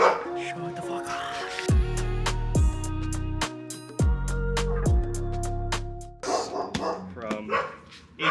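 A dog barks repeatedly and loudly near a car being fitted with new tail lights, sharp barks in quick bursts with pauses and some whimpering yips between them.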